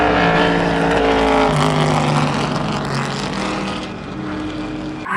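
Loud Mustang race cars pass on the track at Sonoma Raceway during a historic racing event, their engines roaring close by, then dropping in pitch and fading as they go past.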